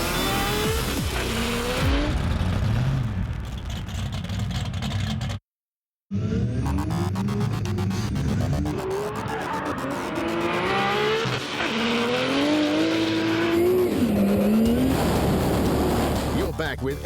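Big-engined drift cars at Hampton Downs in New Zealand roar and scream past, tires squealing in long wavering skids with revving engines, interrupted by a brief silent gap before more howling runs.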